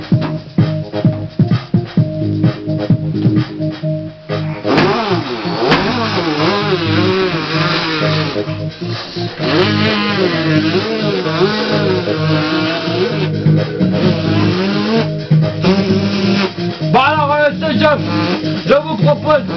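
A Derbi motorcycle engine revs and drones steadily with rising and falling pitch, loud and close, over a continuous bed of sound for most of the stretch.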